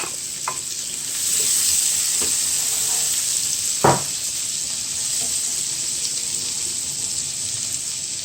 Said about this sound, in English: In the same pot with that oil, you're just gonna add the onion